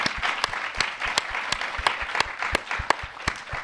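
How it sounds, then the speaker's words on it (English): Conference audience applauding steadily, a dense wash of many hands with a few sharper close claps standing out in a regular pulse, moderately loud throughout. "A round of applause for these folks,"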